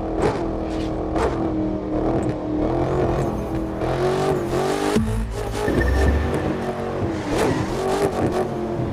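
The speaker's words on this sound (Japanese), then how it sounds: "エンジン音に関しては非常にいいですね" A Maserati Alfieri engine revs loudly and continuously in The Crew 2 video game, its pitch climbing and dropping as it accelerates, with no one speaking.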